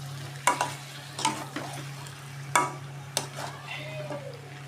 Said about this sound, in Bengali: নুনটা দিয়ে ভালো করে মিশিয়ে দেবো।